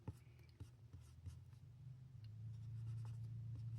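Pen drawing a dotted line on paper during a chemistry lesson, quiet scratchy strokes and light taps close by, over a low steady hum.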